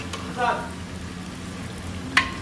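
Manchurian balls frying in hot oil, a continuous soft sizzle with light bubbling and a sharp clink near the end.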